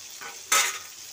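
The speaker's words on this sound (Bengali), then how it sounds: "আর এক পিঠটা ভালো করে ভেজে নেবো।" Pieces of pointed gourd frying in a pan over low heat, a soft steady sizzle with a brief louder burst of hissing and a light stir.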